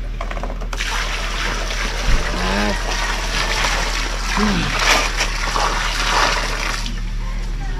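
Water splashes and sloshes in bursts amid a noisy outdoor background, with voices talking over it.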